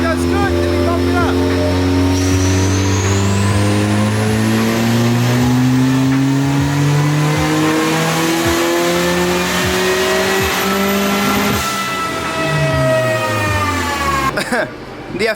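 Turbocharged Honda Civic engine on a dyno at about 20 PSI of boost, loud and close, revving up in long rising sweeps through the gears before easing off and cutting out near the end.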